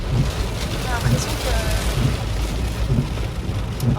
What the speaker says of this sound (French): Retour dans la pluie.